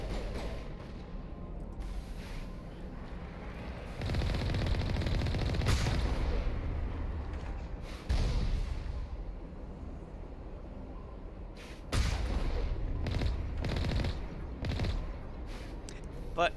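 Turret gunfire in the video game Mass Effect: repeated loud bursts of shooting and heavy booming reports, with sharp cracks clustered near the end and a rumbling game soundscape underneath.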